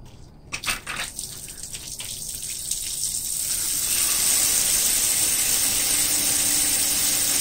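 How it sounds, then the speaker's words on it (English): A pump pushes water through a newly connected PVC pipe fitting for a car cooling system, starting with a few splashing bursts before settling into a loud, continuous rushing spray. "So now that it's hooked up to the pump for the first time, it'll spray everywhere, but that's okay."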